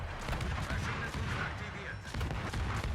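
Broadside from a warship's naval guns loaded with armour-piercing shells in a naval combat video game, a dense barrage of overlapping booming blasts that stays loud and continuous for about three seconds, with one brief dip midway.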